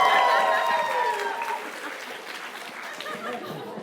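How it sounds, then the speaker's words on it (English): Wedding guests applaud a quiz placing at a reception, a crowd clapping and cheering with some laughter and voices mixed in, loudest at the start and then settling into a softer, ongoing patter. "Round of applause for Chi."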